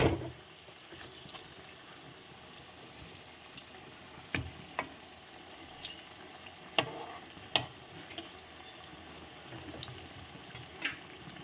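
Spinach leaf pitha frying in a shallow film of oil in a pan, a soft continuous sizzle broken by sharp intermittent pops and ticks every second or so.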